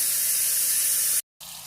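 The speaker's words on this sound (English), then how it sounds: "Be sure to wash your mushrooms, even if they're organic." Mushrooms being rinsed under a running kitchen tap, a steady close hiss of flowing water that cuts out briefly near the end and then resumes.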